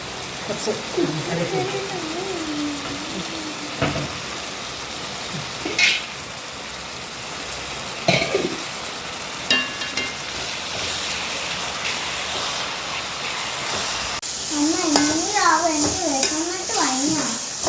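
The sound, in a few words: frying and stirring fish masala after adding garam masala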